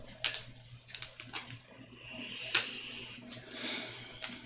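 Playing cards shuffled during a runes and magick Q&A, giving quiet riffling bursts and soft flicks in a repeating rhythm, close and faint with no talk.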